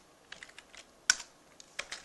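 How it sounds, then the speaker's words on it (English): Keys clacking on a computer keyboard while C++ code is entered, a quiet run of separate taps with a sharper, louder strike near the middle and another small cluster toward the end. "Now I'm going to type in using namespace"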